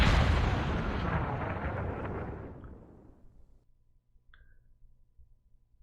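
Bombing in the War in the East 2 strategy game produces a loud, deep booming explosion that rumbles and slowly fades over a few seconds, followed by near silence with a faint small click.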